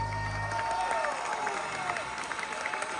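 An audience applauds a singer at a concert, a dense patter of clapping over the fading tones of the last song, with voices mixed in.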